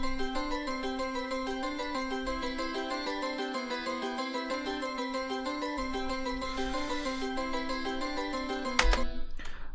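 A self-made string ambience pad for a music track plays sustained, shimmering layered tones with a bright ringing texture. It carries steadily for several seconds and ends with a sharp burst near the end.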